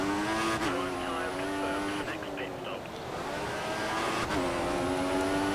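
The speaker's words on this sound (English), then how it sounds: "Ooh, just braked a bit late." An F1 racing car in the F1 2014 video game at the Belgian Grand Prix brakes late, its high engine whine dropping and rising again with brief tire noise, loud and continuous.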